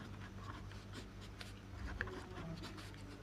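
Marker strokes squeak and scratch across a classroom board in short, repeated bursts over steady low room hum, fairly faint, with no talking.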